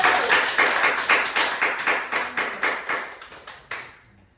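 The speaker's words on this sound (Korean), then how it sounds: "우리 한번 박수로 찬양하겠습니다" A church congregation claps hands together in praise, a rhythmic series of sharp claps in a steady beat, fairly close, thinning out and stopping near the end.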